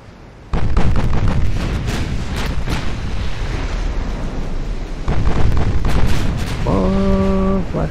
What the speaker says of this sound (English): Nothing more beautiful than flash fire.